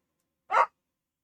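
One sharp dog bark, short and fairly close, with silence before and after.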